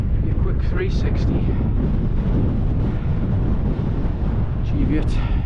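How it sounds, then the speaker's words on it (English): Strong wind buffets the microphone on a hill summit near Cheviot, a loud continuous low rumble with gusty surges that swamp everything else. "it's extremely windy"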